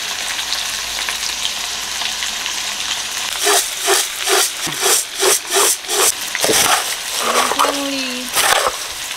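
Oil hisses in a pan during cooking of a winter jackfruit curry, a steady background sizzle under a run of rhythmic louder bursts and a voice rising over it near the end.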